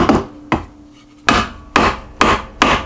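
Six sharp hammer strikes driving a birch wood handle onto a metal tool, spaced unevenly with short pauses, close and loud, no talking.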